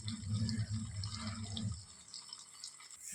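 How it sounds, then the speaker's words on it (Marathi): Homemade ghee bubbling and crackling in a pan as it is strained, a close, busy sizzle of small pops that loudens and then thins to a quieter hiss. "छान बुडबुडे येत आहेत, कडकड आवाज येतोय."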